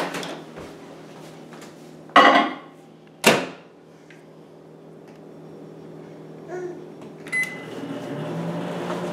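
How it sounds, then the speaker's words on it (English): A steady low hum of a running microwave oven heating goat's-milk mozzarella curd, interrupted by two sharp clunks early on and a few small clicks and rattles later. "So now microwave it for 1 minute."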